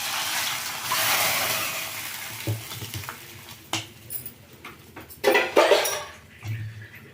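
Tempering being added to a pot of bamboo shoot sambar: a brief sizzle followed by clinking metal utensils, a ladle scraping and stirring, and scattered clatters, close and fairly loud, with no voices.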